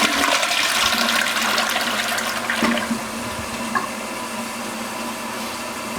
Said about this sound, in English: I'll flush it again.